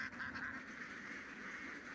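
A flock of ducks wandering through rice paddy fields, giving a steady, faint chatter of overlapping quacks with no pauses, heard from some distance.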